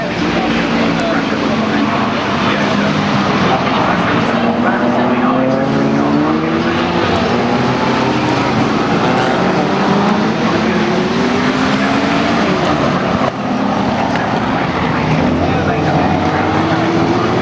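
British GT race cars roar around Brands Hatch, engines rising and falling in pitch as they pass in a continuous loud stream, with a commentator talking over them.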